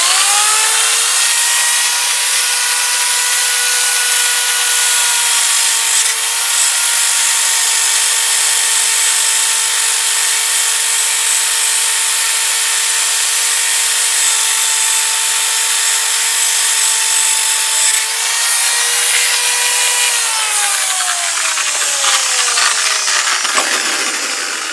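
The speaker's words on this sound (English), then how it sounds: "So we'll get the old wire wheel on that." Loud, steady high-pitched whine of a wire wheel spinning against a rusty part from a Kawasaki GPZ500S motorcycle, held at a constant pitch for about twenty seconds before winding down near the end.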